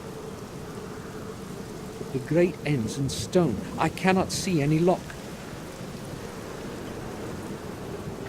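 Steady rain with distant thunder in the game The Black Mirror falls as an even hiss throughout, while someone speaks over it in the middle.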